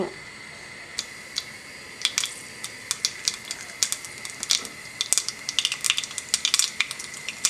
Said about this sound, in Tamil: கடுகு நல்லா வெடிச்சு பொரிஞ்சு